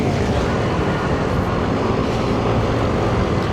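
A Yamaha NMAX V3 motor scooter runs at full throttle on the Marilaque mountain highway, giving a continuous loud roar of engine and rushing wind with no breaks or talking.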